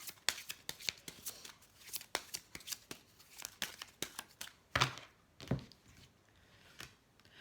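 Oracle cards for spiritual guidance being shuffled by hand, a steady run of crisp riffling snaps and soft paper slaps close to the mic, pausing briefly then resuming with a few louder flicks.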